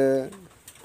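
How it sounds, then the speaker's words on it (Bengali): A female red-eyed Kamagar pigeon gives a single short, close coo that quickly fades into quiet room noise. "এটা হলো একটা কামাগার কবুতর, একটা ফিমেল কবুতর"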